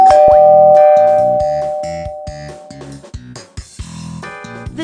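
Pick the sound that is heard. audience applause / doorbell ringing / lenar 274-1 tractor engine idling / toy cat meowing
doorbell ringing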